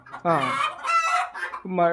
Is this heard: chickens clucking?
yes